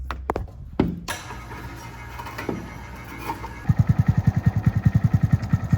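A Honda Grom motorcycle engine fitted with knobby tires idles very low after being set back on the ground, a steady loud putter of even pulses following some clanks and handling noises.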